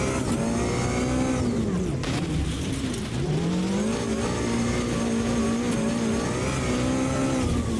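A supercar engine in the racing game Automobilista 2 revs hard on a short circuit, producing a loud, continuous drone whose pitch dips and climbs again through gear changes and braking.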